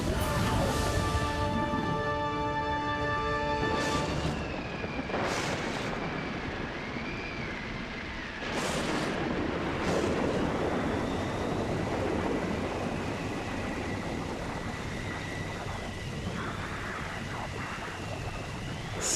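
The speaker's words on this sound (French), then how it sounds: "Ces roulements de tonnerre, ces éclairs dans le ciel noir et ce vent furieux" Cartoon storm with furious wind roaring and gusting, deep rumbling swells like rolling thunder and a tonal musical layer over it, continuous and loud with no talk.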